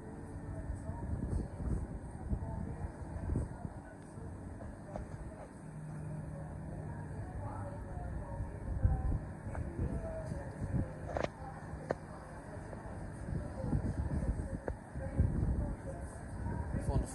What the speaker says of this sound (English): Coming in now is 12:15 Southeastern service from Dover Priory via Canterbury East to London Victoria, formative single class 375.